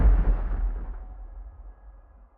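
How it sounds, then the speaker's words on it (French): A second explosion heard from inside the Stade de France during a match, a deep, heavy boom with a low rumbling blast that fades over about two seconds, with no voices. "on a bien senti cette deuxième explosion, avec le souffle"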